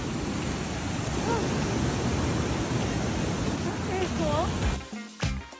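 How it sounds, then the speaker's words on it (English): Waterfall in Colorado roaring as a steady broadband rush of falling water, loud and continuous, with brief speech over it near the end. "Oh, there's the waterfall"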